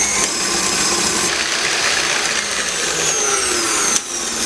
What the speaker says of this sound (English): Now into that add the melted butter and mix that again about a minute.